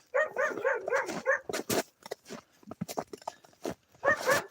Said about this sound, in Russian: собака кавкает.